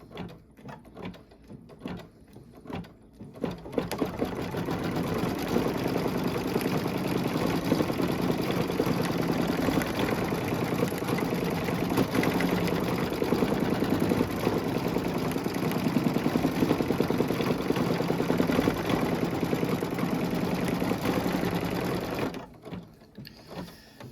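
Computerized embroidery machine sewing a tack-down stitch for flexi foam on a pin cushion project, a fast, steady mechanical chatter of the needle running for about twenty seconds, close by, with a few clicks before and after.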